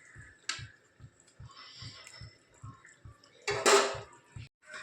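A pot of fish curry lifted off the stove, heard as clinks and scrapes of metal cookware with a dull knock, over a steady faint rhythmic ticking in the background.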